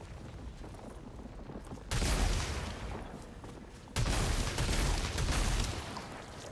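Gunfire rattles in the game Returnal, coming in two dense bursts of rapid blasts with a booming low end, each following a quieter stretch of background rumble.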